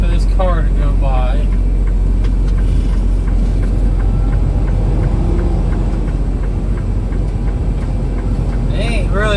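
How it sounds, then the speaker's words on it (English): A car drives past a stopped truck on Des Moines Avenue, its engine rumble rising and fading over a steady low idle drone. A few brief squeaky tonal sounds appear at the start and end. "Wait for this car to go by."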